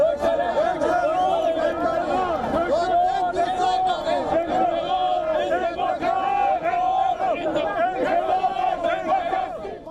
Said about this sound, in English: Pezeshkian making his way through the crowd at a protest in Tehran